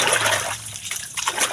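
Water overflows from a container with a steady close trickle and splashing that runs throughout, briefly thinning midway before picking up again.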